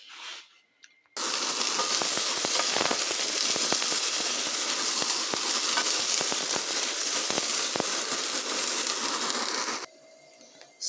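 Asparagus from the garden sizzles loudly in a frying pan, a dense, continuous crackling that starts abruptly, holds steady for several seconds, then cuts off.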